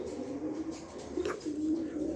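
Pigeons coo in soft, repeated low calls, close by and steady throughout, with no talking.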